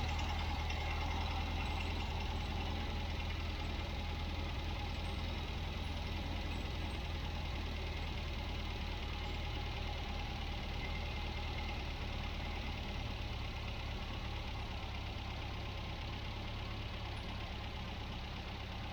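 A 1967 MGB Mk1 engine idles steadily at around 1000 RPM after carburettor tuning, a continuous, even low rumble with a faint rhythmic knock, close and alone without talk.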